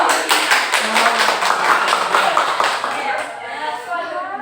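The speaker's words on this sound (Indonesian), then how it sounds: "Yang tepuk tangan dulu." A group of students in a classroom clapping hands together, a dense run of rapid, loud claps with steady rhythm that fades out toward the end, with voices in the background.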